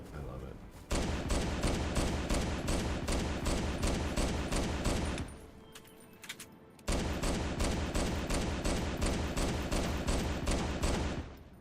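Rapid, loud Magnum pistol fire from a modded Halo 3 game rattles along in an almost continuous stream of shots, breaks off for a second or two, then resumes, with some speech mixed in.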